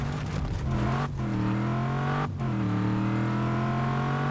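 A car engine in the video game Just Cause 3 revs loudly and steadily, its tone holding with two brief dips as if shifting or letting off, alone without talk.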